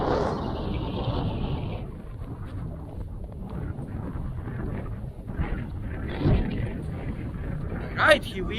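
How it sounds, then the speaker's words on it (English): Moorland wind on Dartmoor near Merrivale in West Devon gusts against a microphone as a low, uneven rumble with occasional louder buffets and a brief higher hiss at the start. "Bit windy today."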